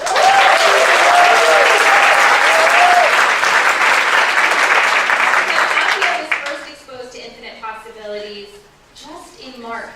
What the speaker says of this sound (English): So an extra round of applause.